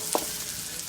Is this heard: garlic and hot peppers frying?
yes